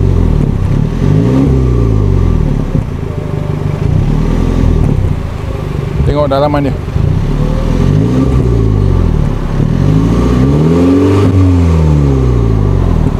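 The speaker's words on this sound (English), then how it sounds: "kita mesti dengar dia punya revving, dia punya bunyi." A loud 2024 MINI Cooper S Convertible engine with quad exhaust revs repeatedly, pitch sweeping up and down in rising and falling surges, close by, with a brief spoken remark midway.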